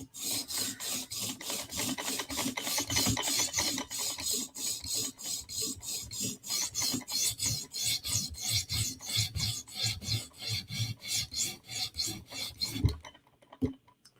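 Custom Para 3 knife blade scrubbed back and forth on a TSProf Kadet sharpening stone, close rhythmic rasping strokes at a steady pace for most of the span, ending abruptly with a brief clunk and quiet.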